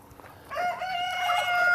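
A rooster crows on a farm that keeps laying hens, a clear drawn-out call rising from quiet, fairly close, with no talk over it.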